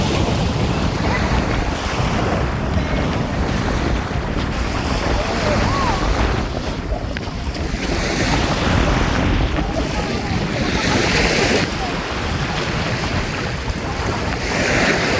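A twin-engine motorboat for squid fishing runs steadily over waves off Romblon, its low engine drone mixed with the continuous rush of water and buffeting wind against the microphone for the whole stretch, with no pauses.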